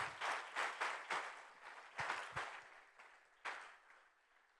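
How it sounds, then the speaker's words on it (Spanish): Church congregation giving a brief round of applause for the Lord during a Christian sermon, heard as a few uneven bursts of clapping that swell and fade, fairly quiet and distant. "vamos a dar un aplauso fuerte al Señor"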